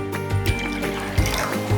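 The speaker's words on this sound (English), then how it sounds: "So I've added a little bit of more coconut water." Coconut water poured into payasam, a close liquid trickle and gurgle with a few soft splashy pulses across a brief, continuous pour.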